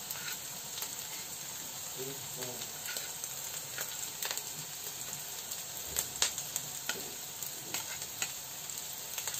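Bacon frying in a pan at home for Mexican food, a continuous close sizzle with scattered sharp pops and occasional stirring clatter, moderately soft, no talk.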